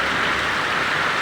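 Steady rain falls onto a flooded road, a dense, continuous hiss of drops and splashing water with no breaks, loud and close throughout.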